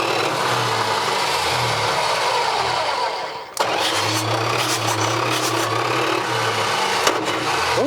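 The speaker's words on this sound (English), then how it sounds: "That starter runs 30 seconds after you let off of it." A starter motor on a 1986 Dodge Ram pickup keeps whirring steadily after the key is released, a continuous mechanical drone that briefly drops out and resumes, with a small clunk near the end.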